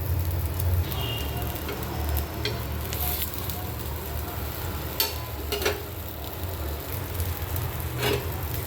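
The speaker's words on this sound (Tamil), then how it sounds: "இதே மாதிரி லைட்டாக ப்ரௌன் கலர் ஆகுறது வரைக்கும் ஃப்ரை பண்ணி எடுத்துக்கோங்க." A rava roll frying in a pan gives a soft, steady sizzle with a few faint clinks and scrapes, low in level and continuous, with no talking.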